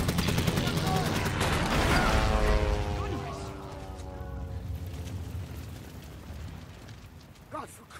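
A WWI fighter plane fires its machine gun in a film battle, a dense rattling burst of rapid shots with engine roar, then fading as an aircraft drones, and a voice calls out near the end.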